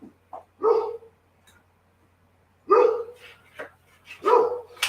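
Dog barking in three close, loud bursts of one or two barks each, separated by quiet pauses, with a few short faint yips in between.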